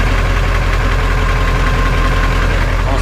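Naturally aspirated 8.2 liter diesel engine of an old dump truck with loose belts, idling loud and close with a steady, rough low chugging throughout.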